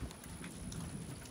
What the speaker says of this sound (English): Right when I got set up or getting ready, it started raining.